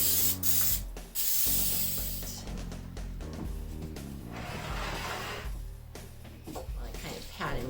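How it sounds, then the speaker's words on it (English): Butter spray is misted onto a whole chicken in a buttered pan in a tiny kitchen, giving several close, sharp hissing bursts separated by short pauses, with no talking. "I like to spray them with butter so that the seasonings stick"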